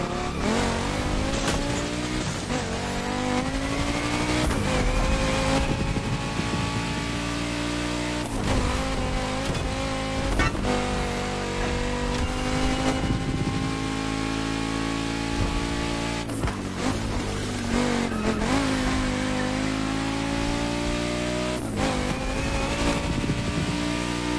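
A hypercar engine in the racing game The Crew Motorfest revs loud and close, its pitch climbing and falling through repeated gear changes with brief drops between pulls, alone with no talking.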